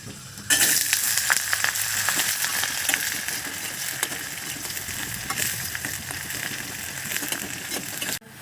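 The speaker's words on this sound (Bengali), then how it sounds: "কুচি করে রেখেছি সেটাও রসুনের সঙ্গে ভালো করে ভেজে নেব" Chopped onions fry with garlic in hot oil, a continuous bright sizzle with occasional stirring clinks, close and steady throughout.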